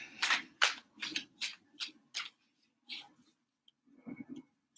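Tarot cards are shuffled in a rapid series of crisp riffling bursts, about eight close, quiet snaps, followed by a pause and a few softer card sounds.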